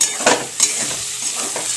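Gima greens fry crisp in a pan whose bottom is sticking, heard up close as a continuous sizzle broken by a few sharp spatula scrapes and stirring strokes.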